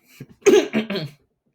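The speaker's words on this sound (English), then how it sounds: "I'm sorry I'm coughing that much" A short burst of several harsh, throaty coughs close up, three quick hacks in a row followed by silence.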